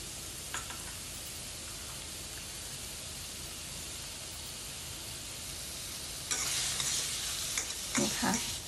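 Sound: stir-frying fatty pork until cooked

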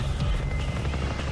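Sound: helicopter in a video game

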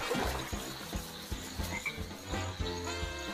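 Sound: frog croaking in a video game cutscene

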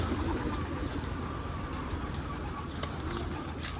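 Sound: pigeons cooing

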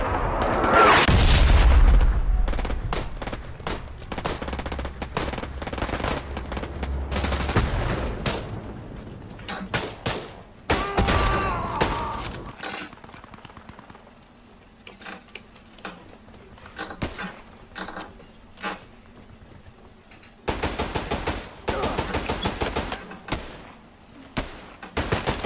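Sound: strafing run gunfire in video game Hell Let Loose

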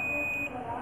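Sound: multimeter continuity buzzer beeping on phone board

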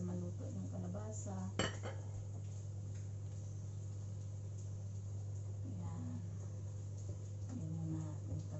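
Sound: pumpkin being added to pot of boiling coconut milk

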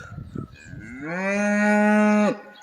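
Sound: cow mooing

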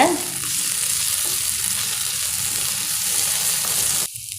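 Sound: onions sautéing with ginger garlic paste in a pan

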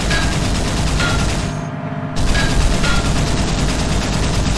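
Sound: coaxial machine gun firing on LAV Jackal vehicle, video game mod

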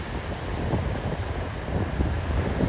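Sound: strong sea waves and wind at high tide

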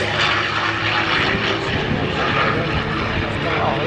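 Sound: propeller airplane engine

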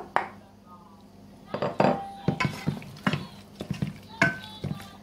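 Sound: chicken being mixed into marinade

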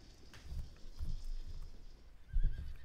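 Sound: horses of horse archer cavalry in Field of Glory II video game

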